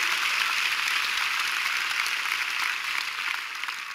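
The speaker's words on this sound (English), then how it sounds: "You want to clap, then give God a big clap" A church congregation clapping loudly and continuously, a dense hall-filling roar of many hands that stays strong throughout and eases slightly toward the end, with no voices over it.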